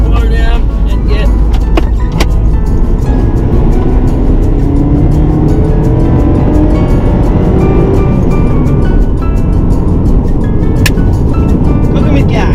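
A car cruising on a freeway produces a constant, loud low road and wind roar inside the cabin, steady throughout, with a person talking over it.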